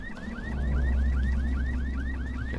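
A car alarm wails in the zombie game Dying Light, a loud, close, rapidly repeating rising whoop that cycles about eleven times over a deep engine-like rumble.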